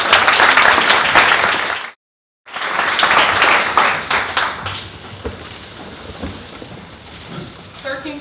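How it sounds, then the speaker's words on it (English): Audience applause at a Dallas startup pitch event, a dense, loud wash of clapping that cuts out briefly, returns strongly, then thins and fades toward the end. "If you could give them a round of applause,"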